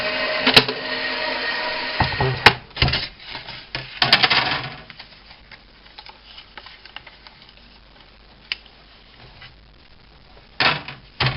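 Die-cutting machine working through shaped card, heard as irregular mechanical clicks, knocks and grinding rattles in bursts with quieter stretches between, ending in a final cluster of knocks.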